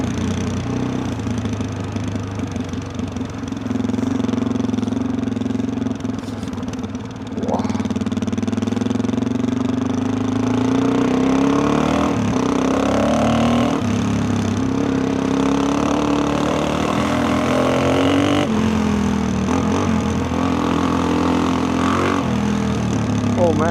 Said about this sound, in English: man, this bike rips. I'm like third or maybe quarter throttle in now.